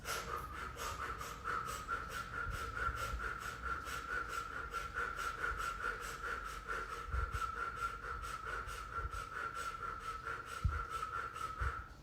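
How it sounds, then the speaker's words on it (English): A person does a rapid, rhythmic dog-panting breath exercise through an O-shaped mouth, with quick, even huffs repeating steadily for several seconds at close range. "you're doing a dog panting breath"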